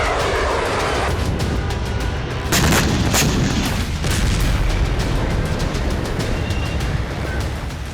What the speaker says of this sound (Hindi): इजराइल ने इसीलिए इस पर मिसाइल हमले किए।